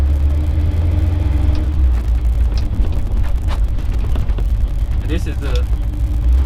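A 1983 Chevrolet C10 pickup with a newly fitted steering wheel rumbles along on its first drive, its engine a steady low drone throughout, with someone talking over it inside the cab.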